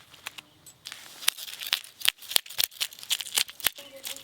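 Rohu fish being scaled, a quick series of sharp scratchy rasps and flicks in irregular bursts, close and fairly quiet.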